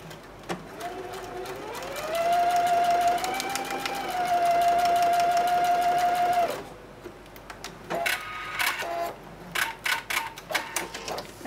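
A sewing machine stitches a quilt block in one sustained run with a steady whirring motor tone that rises and holds for several seconds, then stops, followed by scattered clicks and handling noises.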